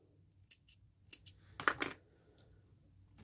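Scissors snip through sewing thread after hand-stitching a vinyl strap, giving a few quiet, sharp clicks and snips close by, with one small burst of cutting in the middle and no talking.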